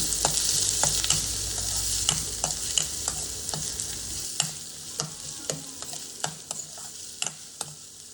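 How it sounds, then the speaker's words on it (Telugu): Onion and curry leaves fry in a pan with a constant crackling sizzle, interrupted by frequent sharp taps and scrapes of a spatula stirring, close and fairly quiet, with no one speaking. "కొంచెం వాసన కోసం కరివేపాకు రెమ్మలు రెండు వేసుకొని లైట్గా ఫ్రై చేసేసుకున్నాము"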